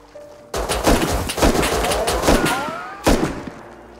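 Gunfire in a fight within a modded survival game: a burst of loud, rapid cracks and booms starting suddenly, with dense repeated shots and another sharp blast near the end, no talking.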